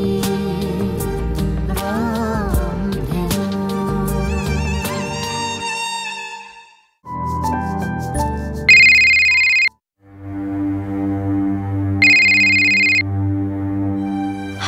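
A phone ringtone plays late at night in an Assamese TV drama, a loud melodic tune followed by two bursts of a bright electronic ring separated by short gaps, with no talking over it.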